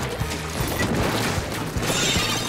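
Loud, continuous crashing and booming bursts fill the clip, a dense stream of video game explosion impacts with no pauses between them.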